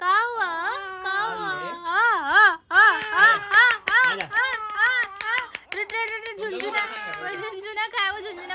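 An infant crying in wavering, repeated wails at close range, with someone talking and comforting over it throughout, outdoors at a park.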